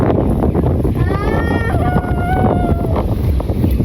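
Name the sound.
wind and river water waves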